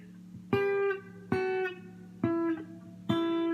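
An acoustic guitar plays four plucked notes at a slow, even pace, each ringing briefly before the next, quiet and close.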